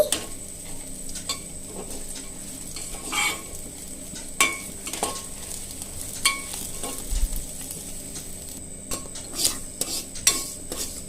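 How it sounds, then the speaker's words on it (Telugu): Sesame seeds, then dried red chillies and green chillies, dry-roasting in a pan for velakkaya chutney, with a soft crackle and sizzle and intermittent clinks and scrapes of a spoon stirring against the metal, close and steady throughout. "ఫస్ట్ నువ్వులు వేయించుకోవాలి, మళ్ళీ ఎండుమిర్చి ఇంకా పచ్చిమిర్చి వేయించుకోవాలి"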